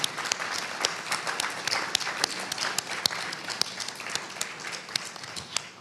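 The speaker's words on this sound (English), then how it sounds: "let's give one last round of applause for their candor" An audience at a summit fireside chat remembering the 1979 Greensboro massacre claps in a sustained round of applause, with sharp individual claps standing out over a steady crowd patter at moderate level.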